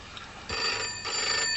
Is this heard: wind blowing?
no